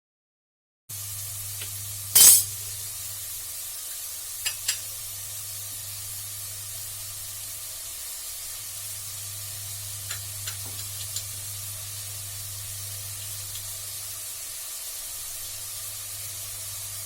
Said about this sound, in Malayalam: എന്നിട്ടൊന്ന് നന്നായിട്ട് ഇളക്കി കൊടുക്കാം.